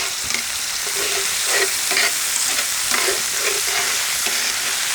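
Tomato passata with leftover sausages cooks in a cast iron pan, giving a steady bubbling sizzle broken by repeated scraping strokes of a utensil stirring the sauce, close and moderately loud.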